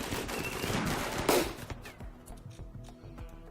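Automated defense turrets in RimWorld fire on attacking enemies, faint rapid bursts of gunfire with a brief louder crack partway through, fading into scattered sporadic shots.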